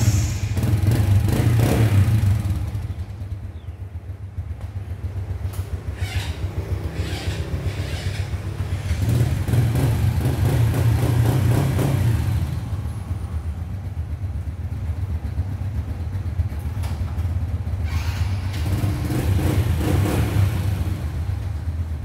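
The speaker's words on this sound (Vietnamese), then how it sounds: "Rồi bắt đầu em phải cho nó nổ máy trước nha anh" A Honda RS 100 motorbike engine, the GS line, idles with a steady low throb and is revved up in several swells, running close and loud on its own with no voices over it.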